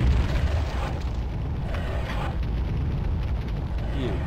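A grenade goes off in Warhammer 40,000: Fire Warrior, giving a loud, deep rumbling blast that rolls on heavily for several seconds with little break.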